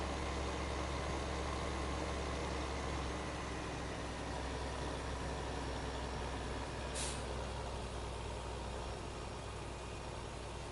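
A tractor pulling a seeder in the Farming Simulator 2015 video game, heard as a steady, loud engine drone that runs continuously without pause, with a brief hiss near the end.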